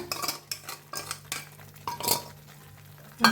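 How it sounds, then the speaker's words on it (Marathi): A spoon stirs and scrapes masala and curd being roasted in a pan, giving repeated close scraping strokes with light sizzling between them and a louder clatter at the end. "छान भाजूया दोन्ही मिळून सतत हलवत का नाही भाजून घ्यायचं"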